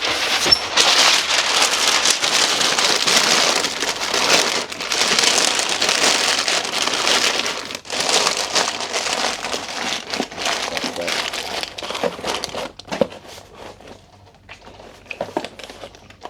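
Packing material is crumpled and stuffed into a parcel to wedge the item in place, a loud continuous crinkling close up for about twelve seconds that then breaks into sparser rustles and handling noises.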